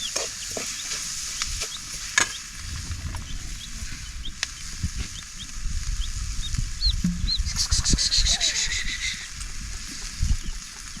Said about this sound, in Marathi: मस्तपैकी असं परतून घ्यायला चालू आहे